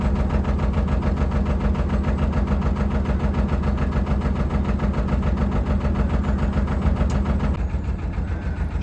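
A Lister diesel engine on a narrowboat idles steadily with a deep, regular thumping beat, loud and close, running continuously without any voices.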